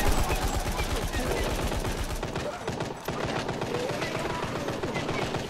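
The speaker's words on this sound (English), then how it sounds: "This SMG tears." Rapid SMG fire in Dying Light 2, a dense stream of loud automatic bursts running almost the whole time with a short break near the middle, game effects and faint talk mixed in.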